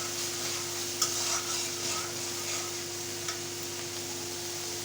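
Spice paste with ginger-garlic paste is stirred and fried in oil in a pan for kofta curry, giving a steady, close sizzle with a few soft scrapes of the spoon and no talk.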